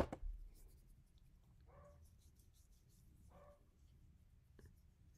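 Two short, faint barks from a dog off in the distance, spaced a couple of seconds apart, over a quiet room.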